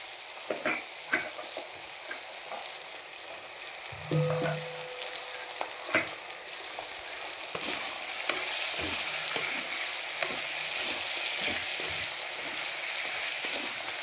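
Eggplant, potato and beans fry in a pan with a steady, close sizzle that grows louder and denser partway through, dotted with a few sharp clicks and taps of stirring.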